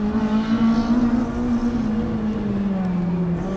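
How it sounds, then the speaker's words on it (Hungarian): An Opel Corsa engine drones steadily at a fairly constant pitch, dipping slightly near the end, heard from a moderate distance with no talking. "Egy autó, aminek van hangja"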